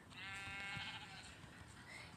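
Sheep bleat in the video game Minecraft, a wavering, drawn-out call heard close over a steady background hiss, with a second shorter bleat near the end.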